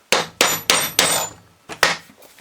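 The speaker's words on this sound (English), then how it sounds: "If it's a bit tight, give it a clout with the hammer." A hammer clouts the drive end bearing of a Ford Transit alternator to loosen it: about six sharp metallic strikes, the first four evenly spaced, then a pause and two more in quick succession, close and loud with no talk.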